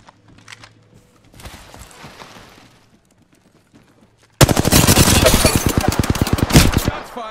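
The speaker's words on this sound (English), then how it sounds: "Shots fired and they're hitting me." Automatic weapon fire in the battle royale game Apex Legends, with sparse faint noises first, then a sudden loud, rapid burst of repeated shots that continues steadily to the end.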